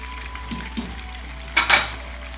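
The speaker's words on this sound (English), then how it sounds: "So chicken has been frying for the last 12 minutes." Chicken pakora deep-frying in a wide pan of oil over a medium-high flame after twelve minutes of cooking: a continuous bubbling sizzle with a few soft clinks and stirring sounds near the end.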